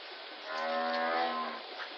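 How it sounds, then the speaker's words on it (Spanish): A single cow moos once, a clear, drawn-out low call lasting over a second, close and alone with no other sounds. "Es una vaca."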